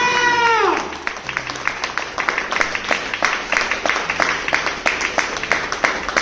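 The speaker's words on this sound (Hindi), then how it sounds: "जोरदार तालियां बजाइए, तालियां" Audience applause at an MLM company leadership event in India, starting after a fading tone and then steady, fairly loud clapping that continues alone to the end.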